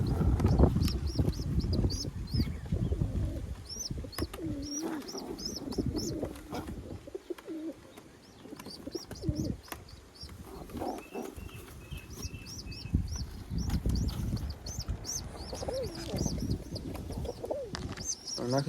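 Pigeons kept in a rooftop loft coo and murmur steadily, with chirps and flutters, close and continuous throughout, while someone talks over them much of the time.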